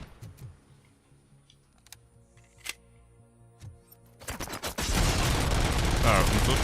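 Turret opening fire in RoboCop: Rogue City, a dense burst of rapid shots that erupts after a few scattered clicks and thuds, then continues loudly; someone speaks quietly before it starts.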